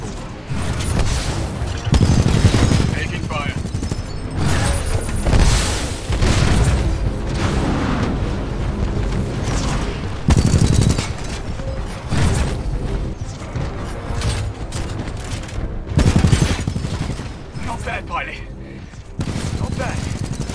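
Dense gunfire and booming explosions fill the Titanfall 2 battlefield, loud and nearly continuous with heavy impacts and mechanical clanks, while voices talk over the combat.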